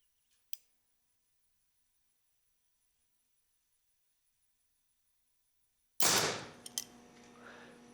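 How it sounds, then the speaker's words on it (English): A bow is shot during bow tuning: a faint click near the start, a long silence, then a loud sharp release snap with a brief rattling decay. "So I'm gonna shoot another shot and see if it gives me the same reading"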